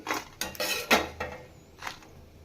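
Roasted whole spices for vangibath powder scraped from a pan onto a plate, heard as a handful of close metallic clinks and scrapes in quick succession, then a quieter knock.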